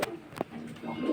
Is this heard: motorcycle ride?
no